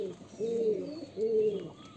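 Two drawn-out, throaty coos from a Murshidabadi Giribaj pigeon, close and distinct, separated by a short pause in an otherwise quiet space.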